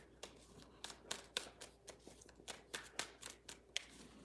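Tarot cards shuffled by hand, a quick run of crisp papery slaps and riffles close up, with no talk.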